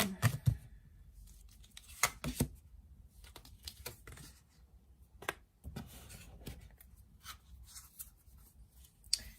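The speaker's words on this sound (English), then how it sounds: "Let's lay out some cards for the sign of Cancer." Tarot cards being laid out on a table, heard as soft, close slaps and taps of cards landing and sliding in an irregular series, fairly quiet, with no talking.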